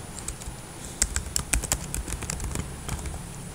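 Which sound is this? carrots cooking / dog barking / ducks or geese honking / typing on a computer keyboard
typing on a computer keyboard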